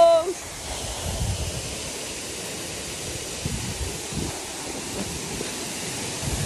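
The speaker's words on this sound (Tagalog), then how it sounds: "waterfalls!" A waterfall at Cagua Volcano gives off a steady, broadband rush of falling water that holds evenly throughout, with a brief bright sound at the start.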